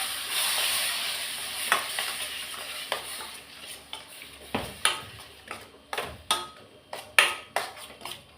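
Ground tomato, blended in a mixer jar, fries in a pan with soft sizzling while a utensil stirs it, giving a rhythmic series of sharp scraping taps against the pan, close up.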